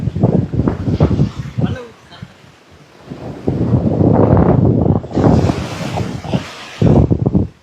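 Sea waves roll onto a fishing shore under strong wind, with gusting buffets on the microphone and surf surging in repeated loud swells, close and rough.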